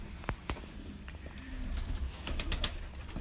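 Pure breeder pigeons make soft, low cooing and a few brief wing flutters and clicks, faint and close, against a quiet background.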